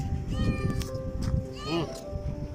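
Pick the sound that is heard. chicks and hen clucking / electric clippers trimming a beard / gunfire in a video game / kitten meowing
kitten meowing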